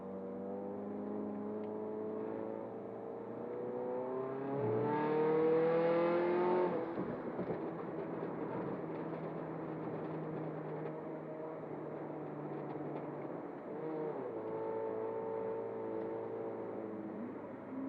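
A turbocharged 2009 Toyota Corolla Altis accelerates on a night drive, its engine note rising steadily through the gears with a whirring tone, then settling to a cruising drone, heard from inside the car without speech.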